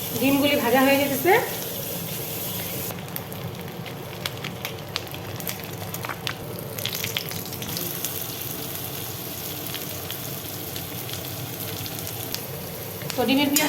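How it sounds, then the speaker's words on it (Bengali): Eggs for an egg curry frying in a pan, with a steady close sizzle and crackle throughout, occasional clinks and stirring, and brief voices and clatter at the start and end. "ডিমগুলি ভাজা হয়ে যেতেছে।"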